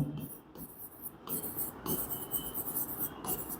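Marker or chalk strokes on a classroom board while a table is drawn, short scratchy squeaks in uneven bursts, close and moderately loud, with a teacher talking softly in between.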